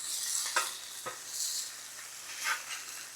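Chicken meat sizzles steadily on a hot Blackstone griddle, a soft, close hiss that swells and fades, with a few light scrapes of a spatula.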